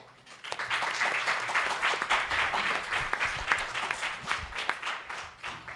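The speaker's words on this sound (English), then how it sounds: "So another round of applause for our candidates." Warm audience applause for election candidates at a community forum, a full crowd clapping steadily for several seconds, swelling quickly and tapering slightly at the end.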